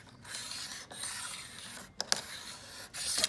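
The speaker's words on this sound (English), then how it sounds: "your Yak Attack adapter that slides right onto the rail just like this" A Yak Attack adapter slides onto a kayak rail, fitted for a Big Fish 120 trolling motor mount. Soft, close rubbing and scraping comes in a few short strokes, with small clicks near the end.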